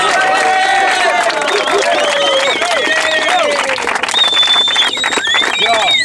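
Crowd at a rap battle breaks into applause and cheering, a dense continuous roar of clapping and voices with whistles and shouts cutting through.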